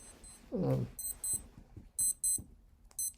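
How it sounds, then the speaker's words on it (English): An alarm clock beeps in short repeated bursts of high electronic tones, mixed with brief rustling thumps close by and no talk. "I have alarms going off."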